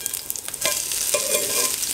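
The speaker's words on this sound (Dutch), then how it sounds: "En dan laat je het gewoon bakken." Grated potato pancakes (reibekuchen) frying in a pan, giving a steady close sizzle with a few stirring or scraping touches, getting louder and more continuous partway through, with no voices.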